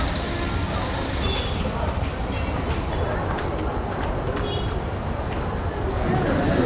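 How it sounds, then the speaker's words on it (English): A Mumbai local passenger train rumbles and rattles continuously at close range, a dense, loud roar of wheels and carriages with a few faint clicks of the track. "then we are gonna hop on the train"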